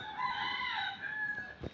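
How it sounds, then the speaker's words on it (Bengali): A rooster crows from a nearby house, a drawn-out tonal call lasting about a second and a half, heard at moderate distance with a faint rustle near the end. "ওই যে মোরগ ডাকে ওই বাড়ি"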